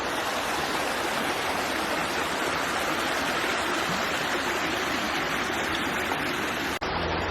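Water streaming steadily through a Water Drop Life Straw filter, a continuous close hiss of flowing water at even loudness, ending with a sharp click.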